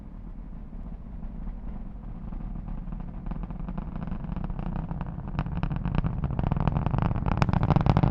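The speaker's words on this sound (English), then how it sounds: "Let's listen to the roar of those 9 Merlin engines." A deep, continuous roar from a Falcon 9 rocket's nine Merlin engines during launch builds steadily, growing louder and more crackling toward the end, with no voices over it.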